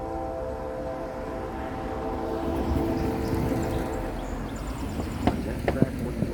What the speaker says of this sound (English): a shiny C6M leads a 10-hour late 21G bound for BNSF in Chicago, Illinois